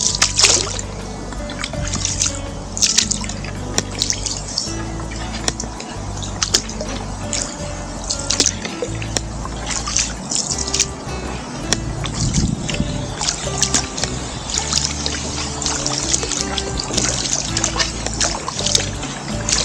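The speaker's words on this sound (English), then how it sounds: "More like poling a kayak than paddling." Kayak being poled and paddled through shallow water on Hendry Creek, with continuous close drips, trickles and splashes over a low rumbling background, no one speaking.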